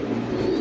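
A steady, muffled coo from African Mundian pigeons, one continuous low throaty murmur at close range.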